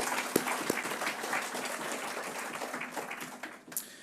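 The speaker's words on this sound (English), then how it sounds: "Let's give them a round of applause real quick." Crowd applause at a college athletics Hall of Fame induction ceremony, steady dense clapping from an audience filling the room for about four seconds, with a few sharper claps near the start and a faint voice at the end.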